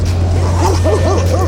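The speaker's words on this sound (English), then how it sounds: "And right now dogs are fighting." Several dogs yip, whimper and bark in quick overlapping bursts during a scuffle, the noise moderately close over a steady low hum.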